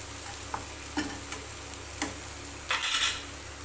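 Okra sautéing in a pan with masala and salt, a steady soft sizzle running throughout with a few light scrapes and a louder spatter near the end, close-up with no talking.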